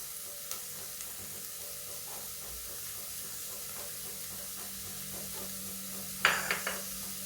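Garlic and onion frying in a little oil over low heat in a pot, a soft even sizzle and hiss close by, with a few light taps and a brief louder clatter near the end.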